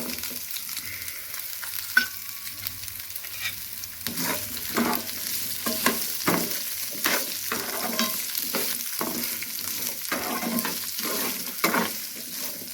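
Amla (Indian gooseberry) and broccoli fry in a pan for a turmeric pachadi, a steady close sizzle with repeated scraping stirs throughout and no talking.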